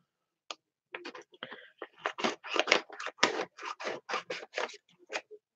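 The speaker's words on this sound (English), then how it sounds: "I'm going to cut one of these." Scissors snipping paper for a junk journal page, a quick run of a dozen or so crisp, close cuts in an uneven rhythm, alone with no talking.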